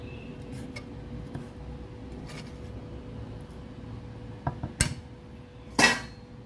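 A knife slices boiled pork intestine into pieces on a board, with a few sharp taps and clicks rising toward the end over a quiet background.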